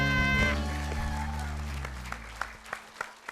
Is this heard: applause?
yes